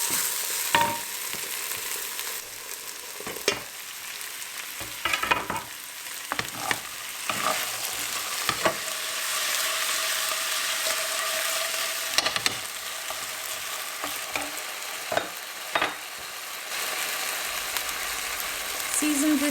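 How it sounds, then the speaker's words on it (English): Potatoes and onion sauté together in a pan for a potato-and-egg pizza, with a soft continuous sizzle broken by repeated clacks and scrapes of stirring spaced through the stretch, close-up and fairly quiet, with no voices. "I'm adding my potatoes and going to saute them together with the onion until a little bit soft and some color on the sides"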